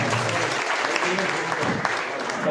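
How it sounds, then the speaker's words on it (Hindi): An audience at a Hindi-Urdu poetry gathering (kavi sammelan and mushaira) applauds in steady, dense clapping that runs throughout, heard from within the crowd. "एक बार सामूहिक रूप से ताली बजा रहे हैं"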